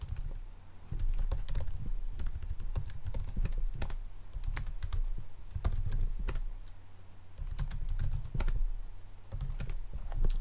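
Steady fast typing on a computer keyboard as terminal commands are entered, a continuous close run of key clicks with brief pauses and no speech.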